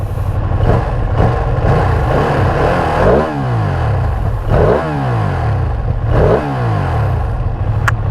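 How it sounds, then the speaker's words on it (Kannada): A loud Ducati Streetfighter V2 955cc V-twin engine revs up repeatedly, three or four throttle blips rising and falling over a steady rumbling idle, close by. "ಇದು 955cc ಇಂಜಿನ್ ಇದು"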